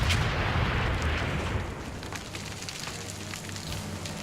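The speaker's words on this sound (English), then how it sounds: "we'll basically just bombard Boston for a while" Artillery shelling a city in Civilization 6: a dense, continuous roar of booming blasts and crackling fire, loudest at the start and then settling into a steady rumble with scattered sharp cracks.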